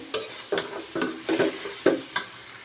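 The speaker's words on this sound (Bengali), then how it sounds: "ভালো মতে অবিরত এখন আমি নাড়াচাড়া করে নেব" Chalta (elephant apple) pickle is stirred in a pan with a spatula, making about six distinct scraping strokes at a steady, unhurried rhythm over a faint sizzle, close and without talk.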